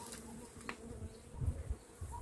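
A large, strong honeybee colony buzzes steadily and faintly inside an opened hive as its frames are inspected. Soft low bumps and handling noises come and go beneath the hum.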